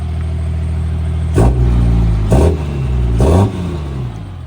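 A lifted 2012 Ram 2500 Laramie 4x4 pickup with a 6.7 Cummins diesel engine idles loudly, then revs hard three times in a row, each rev rising and dropping back to a rumbling idle.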